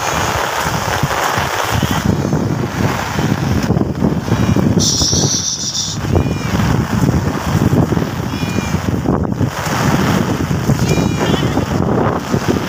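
Strong wind roars without pause during a returning typhoon, a loud, gusting rush that swells and dips, with faint bleats from goats and a few short cries breaking through.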